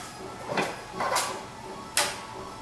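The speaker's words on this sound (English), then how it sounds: "So if I press on the pin down and the other side on the pin up, the drawer should slide out." A bathroom vanity cabinet drawer, held by pins, slides out in three short scraping strokes, close and fairly quiet, the last ending in a sharper knock.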